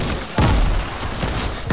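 A sniper rifle shot in Fortnite cracks out near the start as one loud, sharp report, followed by a busy game mix of further gunfire and effects, with no voices.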